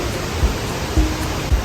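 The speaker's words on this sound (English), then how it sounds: "So right here you can see where the waterfall feeds this river." River flowing just below La Fortuna waterfall, a steady close rushing wash of water with a few soft low thumps.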